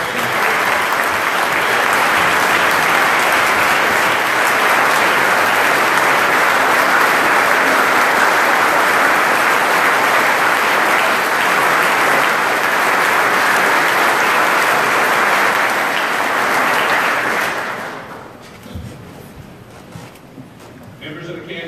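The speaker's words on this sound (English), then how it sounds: "Let's give these two leaders a big round of applause." A large legislative chamber audience at the Kansas State of the State address gives a loud, sustained round of applause that holds steady for about seventeen seconds, then quickly dies away into quiet room noise.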